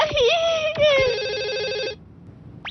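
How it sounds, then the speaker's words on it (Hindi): A telephone rings with a bright electronic warble that rises and falls for about two seconds, loud and close, then cuts off into quiet. "हाँ, फोन आया है।"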